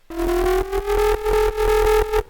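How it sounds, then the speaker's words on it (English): A drum and bass synth bass run through a Decapitator distortion plugin gives a buzzy, harmonically rich gritty tone, pulsing in rapid rhythmic chops and slowly rising in pitch over about two seconds, loud and close with nothing else around it. "I added in a decapitator, which is a really great distortion plugin"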